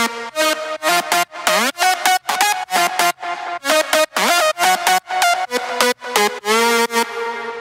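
Layered synth lead melody from a powerful EDM drop, a pluck and a second lead trading call-and-response phrases in short, loud, choppy bursts with gliding pitch bends, steady and rhythmic throughout.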